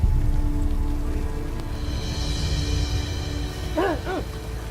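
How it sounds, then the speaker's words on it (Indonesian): Steady rain falls at night, a dense continuous patter with low rumble throughout, while a brief high chirping sound rises near the end. "Malam-malam begini hujan"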